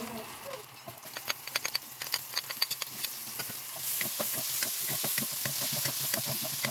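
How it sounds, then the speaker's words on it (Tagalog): Onion sautéing in leftover oil from cooking pork steak, a steady sizzle with many sharp crackles and pops close by, growing denser and louder partway through. "Sa natirang mantika, igisa ang sibuyas."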